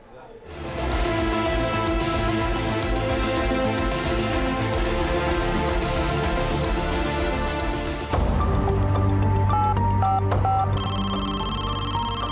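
A telephone rings with a steady, insistent tone, loud and close, layered over dramatic background music during a report on a digital-arrest cyber fraud call, with a brief crash-like shift partway through.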